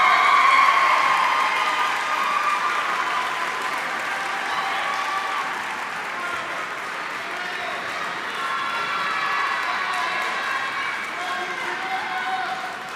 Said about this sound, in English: give a round of applause to the people who you love the most sitting in the stands